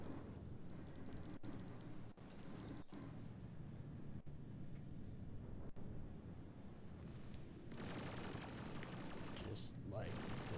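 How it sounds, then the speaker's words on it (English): Gunfire in the video game Star Citizen while shooting an enemy: a handful of sharp, isolated shots crack at irregular intervals over a steady, hissing ambient background. "shoot him in the back"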